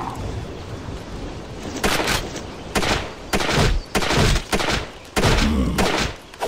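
Bursts of heavy gunfire cut down zombies in the Escape Countdown 24 Hours mobile game. Loud, repeated volleys come in clusters over a rumbling background.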